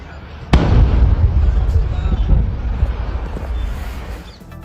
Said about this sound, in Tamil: சாத்தூர் அருகே பட்டா சாலையில் பயங்கர வெடி விபத்தானது ஏற்பட்டிருக்கிறது.